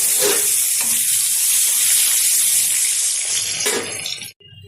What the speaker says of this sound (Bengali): বেগুনটা ভাজার আগে দিয়ে দিচ্ছি তেলের মধ্যে খুব সামান্য পরিমাণে একটু হলুদ গুঁড়ো, একটু লবণ দিয়ে দেবো টুকরো করে রাখা বেগুন